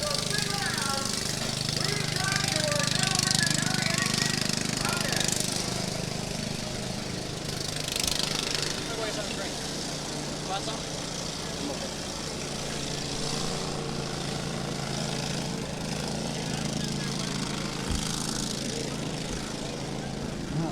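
Racing lawn mowers roar steadily at a county fair demolition derby in Sandusky, Ohio, a dense continuous engine drone from the arena with crowd noise and an announcer's voice layered over it.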